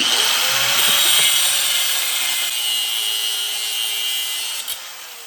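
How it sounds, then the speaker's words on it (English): An angle grinder cutting, a loud, steady high-pitched whine and grinding rasp that holds for several seconds and then tapers slightly toward the end. "This fool has never used a grinder before."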